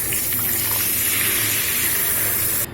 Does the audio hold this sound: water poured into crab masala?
yes